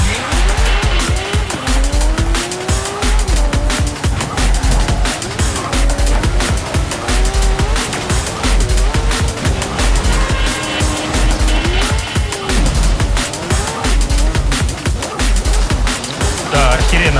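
A Porsche Macan Turbo racing in Forza Horizon 3, its engine revving up and down through gear shifts with repeated tire squeals and skids, loud and continuous throughout.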